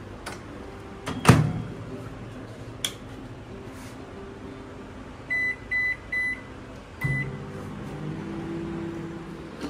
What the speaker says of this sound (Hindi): मैं हल्का सा उसको गर्म करूँगी माइक्रोवेव में